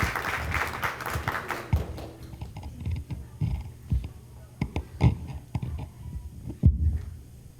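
Brief audience applause at a school concert for children about to recite a poem, with clapping fading into sparse, scattered claps and low thumps in a room.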